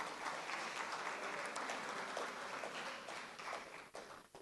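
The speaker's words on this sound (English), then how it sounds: "a round of applause for him once again" An audience at a Manufacturers Association of Nigeria summit applauds a presenter, a faint, distant, continuous patter of many hands that thins slightly near the end.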